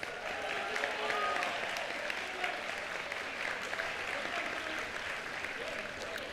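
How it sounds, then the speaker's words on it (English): An audience claps steadily throughout a doctoral hooding ceremony, dense applause filling a large hall at moderate volume, with faint voices mixed in. "Let's give Dylan a round of applause"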